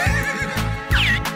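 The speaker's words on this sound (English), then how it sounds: "Horse." Horse whinnying, a short loud close neigh with a wavering, quivering pitch lasting just over a second.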